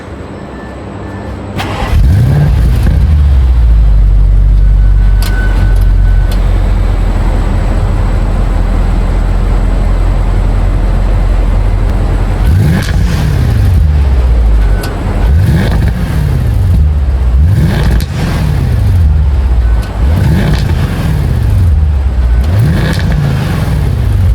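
A car engine cranks and catches with a roar, then settles into a loud idle before being revved repeatedly in sharp rising bursts.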